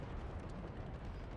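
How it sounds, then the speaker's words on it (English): Heavy bomb explosions in the War Thunder tank game form a dense, continuous low rumble of blasts for a moment, loud and without any voices. "I'm getting fucking bombed"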